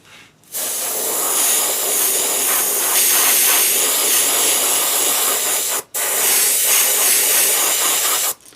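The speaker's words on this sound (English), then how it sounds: "we're using the Iwata Eclipse, and we're going to cover this whole bait pearl white" Iwata Eclipse airbrush spraying pearl white paint over a fishing bait: a loud, steady hiss of compressed air that runs continuously, breaks off briefly, then resumes.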